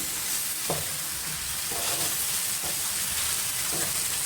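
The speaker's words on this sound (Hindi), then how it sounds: "अब मैं फ्लेम को हाई करूँगी और इसी तरह से आपने चम्मच चलाते रहना है।" Vegetable spicy pasta stirred with a spoon in a pan over a high flame, giving a steady sizzle with periodic scraping strokes of the spoon, close and alone.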